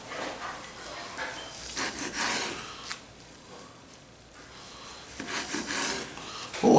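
Knife sawing through smoked Aldi brisket, soft rasping strokes in short bursts with pauses between slices, close and fairly quiet.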